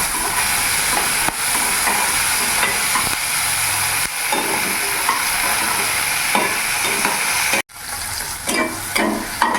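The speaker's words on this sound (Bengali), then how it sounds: "হালকা স্যালো ফ্রাই করে নেবো" Tomato, green chilli, ginger, cashews and melon seeds shallow fry in oil, a loud, dense, close sizzle with light stirring knocks, cutting out for an instant before resuming.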